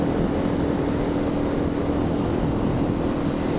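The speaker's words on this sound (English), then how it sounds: "I'm on this little 250 XT solo." A Yamaha XT 250 trail bike ridden solo on a road in Morocco, its engine giving a steady, continuous drone mixed with broad wind rush, loud and unbroken throughout.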